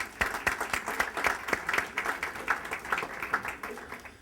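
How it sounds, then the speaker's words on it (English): Audience applause at a business summit in Brooklyn, a moderate, fairly sparse round of individual claps with a distinct rhythm, heard alone without talk. "If I could have a round of applause for her."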